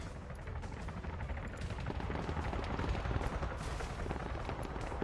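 Heavy gunfire crackles through a military video game campaign at a distance, rapid bursts and scattered shots piling up into a dense, rumbling barrage, without any speech.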